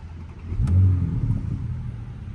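A 2020 Porsche Panamera 4 engine fires up, giving a brief low rumble that swells and then settles into a steady idle, heard close with no voices.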